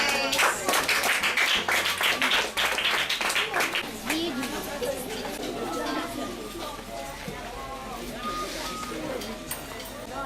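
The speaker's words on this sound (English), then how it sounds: "Clap your hands." A crowd claps hands together at an event for the International Day of Street Children, with dense rapid clapping at first that thins out, while children and adults chatter and call out throughout.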